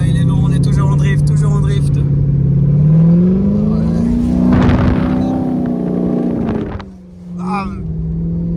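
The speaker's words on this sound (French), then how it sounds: "Wow, il est long celui-là, il est long, on est toujours en drift" A supercar engine revs hard and holds a loud, droning note through a long drift, with the pitch rising and falling as the throttle changes. Someone talks excitedly over it.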